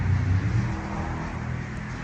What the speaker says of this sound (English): It's a very loud car